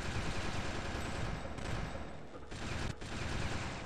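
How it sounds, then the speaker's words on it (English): Assault rifle fire in Fear Effect 2: Retro Helix pours out as a dense, continuous fusillade, loud and close, with a couple of brief gaps near the end and no talking over it. "this one just lay into the sky with an assault rifle"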